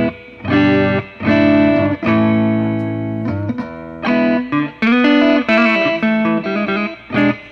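A clean-toned electric guitar plays chords and single notes through a spring reverb, with the notes ringing and trailing off between phrases.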